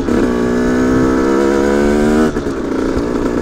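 An Aprilia RS 125 motorcycle engine hums loudly and steadily up close, then abruptly cuts out and falters as the engine dies, leaving a rougher, unsteady sound.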